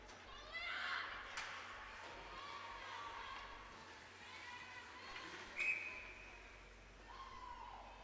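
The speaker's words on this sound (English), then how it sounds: "And a whistle." Referee's whistle at a women's varsity ice hockey game, a shrill blast over rink crowd noise and scattered voices, with a sharp peak midway through the clip.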